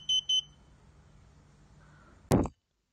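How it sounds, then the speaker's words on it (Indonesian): An embedded system buzzer gives two short high beeps at the start, then after a pause and a long press of the reset button a single brief loud burst sounds, then silence. "bunyi yang dihasilkan pada buzzer akan sedikit berbeda"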